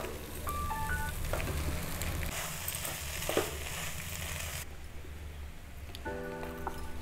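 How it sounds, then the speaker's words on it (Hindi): Spices, roasted peanuts and boiled potatoes frying in a pan for samosa filling, giving a steady, close sizzle with stirring scrapes throughout and a few faint electronic tones at the start and end. "देखिए, मसाले हमारे अच्छी तरह भून रहे हैं।"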